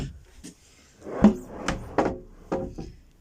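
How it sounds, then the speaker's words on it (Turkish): Several heavy wooden thumps and knocks from a large storage drawer in a caravan pantry being opened and shut, sounding close and irregular with short gaps and no talk. "3 tane oldukça büyük çekmece var."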